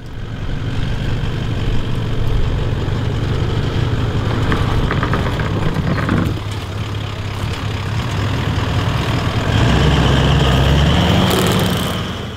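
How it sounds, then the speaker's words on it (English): A four-wheel drive vehicle crawling over a rough, rocky track at Spring Creek near Kununurra, its engine droning steadily and loudly throughout with shifting revs and occasional knocks from the terrain. "It's pretty moderate to tough four-wheel driving, and yeah, I guess you'll see it all now."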